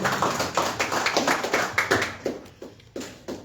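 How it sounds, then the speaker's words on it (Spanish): Audience applause welcoming a guest at an official ceremony: a brisk round of scattered hand claps that thins out into a few separate claps toward the end. "Un fuerte aplauso, bienvenido."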